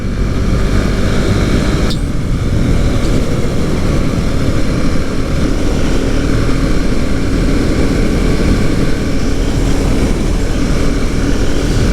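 Husqvarna Svartpilen 701 single-cylinder motorcycle on a test ride, its engine a constant loud low rumble mixed with heavy wind buffeting throughout, with no talk.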